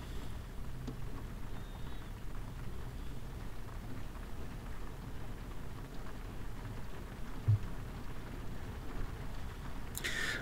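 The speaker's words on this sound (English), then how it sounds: "I don't know if you can hear the rain pit pattering in the background." Steady rain patters in the background during a dog walk, a continuous soft hiss with no voices, briefly joined by a faint higher noise near the end.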